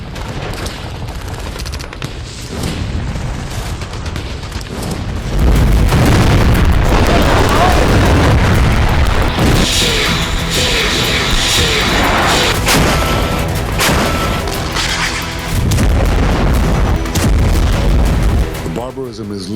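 Heavy booms and rapid gunfire from a Hezbollah anti-tank training exercise roar almost continuously, with dense overlapping blasts that grow louder midway. They may be mixed with music or voices.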